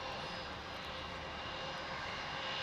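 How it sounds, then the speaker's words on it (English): A Jetstar airliner arriving at Melbourne Airport from Launceston, heard as a steady, loud broadband engine roar with a faint high whine, continuous and unbroken, no talking. "On screen there is Jetstar 736 coming in from Launceston."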